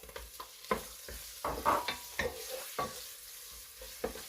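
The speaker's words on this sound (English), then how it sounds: "So I'm adding this sliced pork." Sliced pork stir-fries for bihon with vegetables, a close, crackling sizzle broken by irregular stirring scrapes and clatter.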